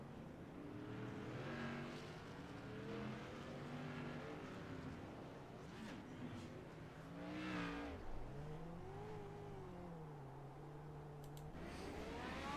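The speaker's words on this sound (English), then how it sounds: "Here comes the pace car and the field right behind him." Whelen Modified race cars at Martinsville roll along in a pack behind the pace car, their engines producing a steady, rumbling drone that swells slightly as cars pass, heard from a distance and fairly quiet overall.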